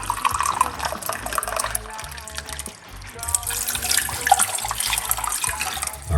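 Hot water pours into a pot for traditional Jamaican tea, a close, loud and steady gushing stream with a brief dip partway through before it continues.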